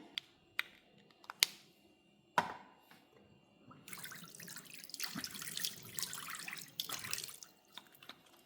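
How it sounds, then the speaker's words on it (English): Water running from a tap into a sink while a face is washed at home in the evening, with a few sharp clicks and drips first, then several seconds of splashing flow, close and fairly quiet. "After a long day, washing my face is the first thing I do."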